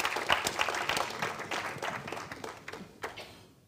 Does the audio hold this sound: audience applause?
yes